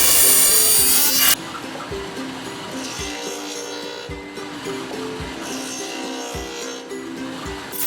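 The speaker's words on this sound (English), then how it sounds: "running these boards through the dado stack, keeping steady pressure downward and against the fence" A table saw fitted with a dado stack cuts rabbets along wooden boards for a box. The saw makes a steady loud whine with a short sharp burst at the start, then a repeated rhythmic thumping as each board feeds through.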